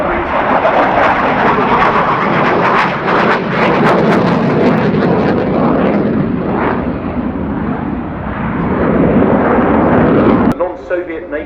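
A MiG-21 jet passes at an airshow with a loud, broad engine roar that fills the air, surging and rumbling steadily for about ten seconds before cutting off abruptly.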